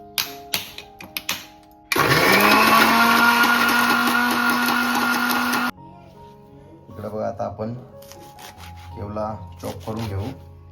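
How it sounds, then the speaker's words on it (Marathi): A kitchen mixer grinder blends spice paste ingredients for a wild-vegetable amti in one continuous, loud, high whirring burst of a few seconds. Clicks and handling noises come before it, and someone talks afterward. "आता एक एक करून टाकून घेऊ सर्व मिक्सरून घेऊ"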